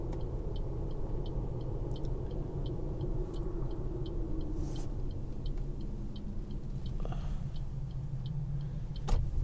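A car driving on a town road and turning right, heard from inside as a low steady rumble with a regular ticking turn indicator, no talk.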